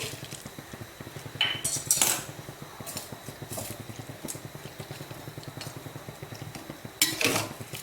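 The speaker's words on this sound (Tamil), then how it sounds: "இது நல்லா அப்படியே மிக்ஸ் பண்ணி விட்டுக்கணும்" Cluster beans being mixed with salt in a pan for vathal, with a metal spoon scraping and clinking against the pan in irregular bursts over a low background.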